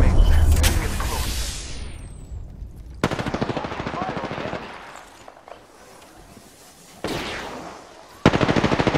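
Rapid automatic gunfire aimed at the player in an online shooter, loud bursts of rattling shots arriving in several waves with short lulls between them, mixed with game effects and voices.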